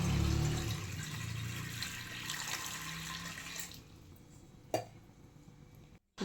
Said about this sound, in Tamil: இப்போ ஒரு குக்கரில் 1 சொம்பு அளவுக்கு நீங்கள் தண்ணி ஊற்றிக்கோங்க.